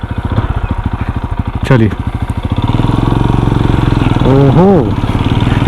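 A QJ Motor SRC 500 motorcycle engine idles loud and close with a steady, fast thumping pulse, then revs up in a couple of short throttle blips as someone speaks briefly over it.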